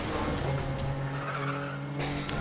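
In the Need for Speed Underground 2 video game, an R35 race car skids with a continuous, loud tire screech over a steady engine drone, with no talking.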